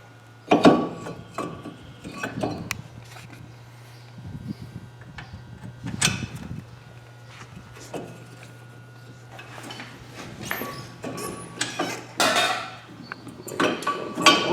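A brake rotor is fitted back onto the front hub of a 2008 Pontiac G5, giving scattered metallic clinks, knocks and scrapes at close range over a low steady hum.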